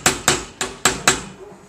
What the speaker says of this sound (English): Some more hammering.